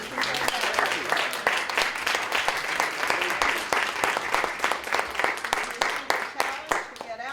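An audience at a talk breaks into sustained applause, dense overlapping hand claps that stay fairly loud and steady before thinning slightly toward the end, with some voices mixed in.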